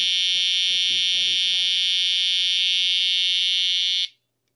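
A Lidl door alarm siren wails continuously and very loudly once its magnet is pulled away, a steady piercing high-pitched tone that holds for about four seconds, then cuts off abruptly into silence.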